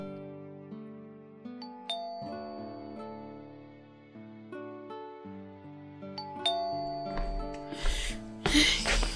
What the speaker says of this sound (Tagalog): Makapag-doorbell nga.